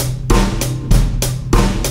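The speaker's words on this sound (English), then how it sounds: "Your basic 4 on the floor groove sounds like this." A steady four-on-the-floor drum kit beat with a punchy kick drum on every beat and bright cymbal hits between, looping evenly and loud with no voices.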